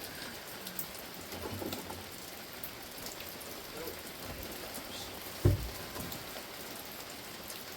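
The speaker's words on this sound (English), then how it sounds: "Well, it's raining." Steady rain falls outdoors on a wet day before a pottery kiln is opened, a continuous soft hiss throughout with one brief louder knock near the end.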